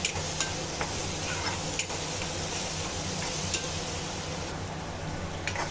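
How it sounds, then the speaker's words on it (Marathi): Onion and tomato fry in a pan for a soybean curry, a continuous close sizzle with occasional light clicks and taps of a spoon against the pan. "आता आपला कांदा आणि टमॅटो फ्राय झालाय"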